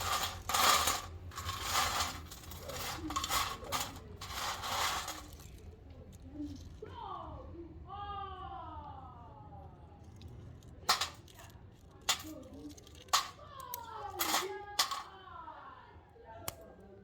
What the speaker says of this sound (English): From the sound, you can tell there is no moisture left in the crackers.